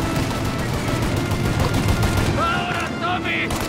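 Dense gunfire from a Mafia Definitive Edition shootout at a turret rattles nonstop as loud overlapping bursts, with brief game sound effects and someone talking over it.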